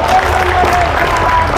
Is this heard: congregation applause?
yes